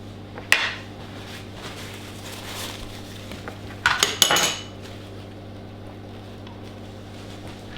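A metal lid is set onto a Lancashire hotpot cooking pot: a sharp clink early on, then a cluster of clattering metal contacts as it settles, over a low steady hum.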